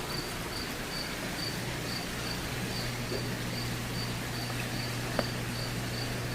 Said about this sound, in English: I hear cricket again